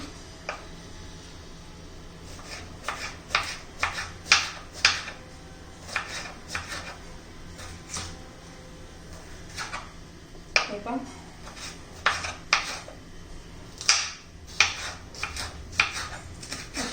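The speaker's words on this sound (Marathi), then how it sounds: "सर्व मिरच्या मी असे चिरून घेते" A knife slicing green capsicum into thin lengthwise strips on a board in a home kitchen, giving a run of quick, light, crisp taps in uneven clusters under a steady low hum.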